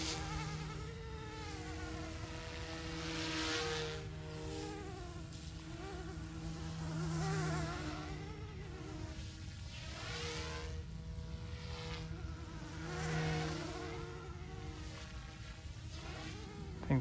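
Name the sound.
OMPHOBBY M2 Explore RC helicopter flying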